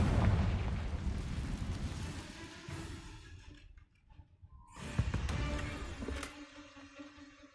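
Confringo blasting spells go off inside Hogwarts Legacy as booming, rumbling explosions: a long roaring blast that fades into near-quiet, then a second sharp detonation that rolls on loudly.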